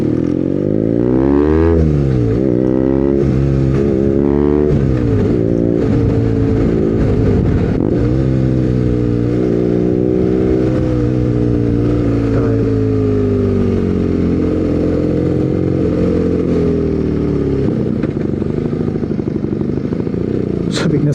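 BMW R nineT motorcycle engine, loud and close, idling with a deep rumble and rising and falling through repeated revs for the full stretch.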